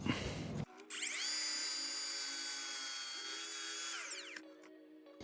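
An Evolution R255SMS-DB-LI cordless mitre saw makes an angled cut: a brief clatter, then a steady high whine as the blade spins through the wood for about three seconds before winding down.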